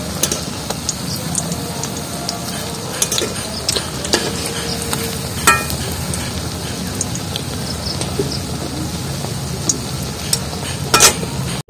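Raw banana kebabs fry in oil in a kadai, producing a continuous close sizzle and bubbling with scattered clinks and stirring taps of utensils against the pan, and no clear talking.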